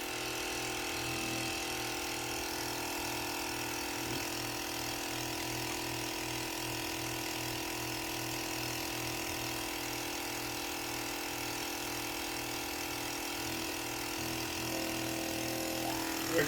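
A vacuum pump makes a steady mechanical drone with a low, regular pulsing throb, running continuously while drawing vacuum on a 5-gallon bucket, close by and unchanging throughout.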